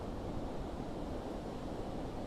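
Steady surf rolling onto Pangyangan beach in West Bali, a continuous broadband wash of ocean waves with some wind rumble, even in level and unbroken throughout.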